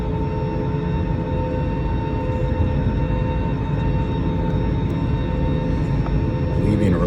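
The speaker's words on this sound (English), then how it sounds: "Engines are revving up." Airliner engines rev up for takeoff on a flight from Orlando to Baltimore, a loud, steady roar and whine filling the cabin without a break.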